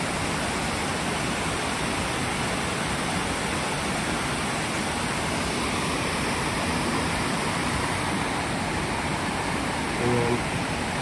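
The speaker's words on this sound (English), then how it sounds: "Yeah, nice waterfall right here." Steady rushing water roars evenly throughout, a dense broadband wash of a nearby waterfall in the Cohutta Wilderness, with no breaks or talk.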